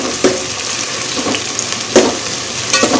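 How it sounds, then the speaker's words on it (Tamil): Chopped onions sauté in a pan with a close, dense sizzle and a few sharp spatula scrapes and taps, loud and steady with no talking. "கட் பண்ணியிருக்க வெங்காயம் எல்லாத்தையுமே சேர்த்துக்கரலாம் எல்லாத்தையும் நல்லா வதக்கி எடுத்துக்கலாம்"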